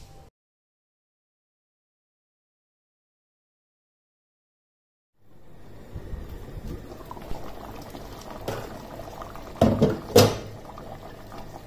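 Chicken and potato shorba cooking covered over a medium flame: after several seconds of silence, a steady bubbling simmer rises, joined by a few close clatters and knocks from the pot.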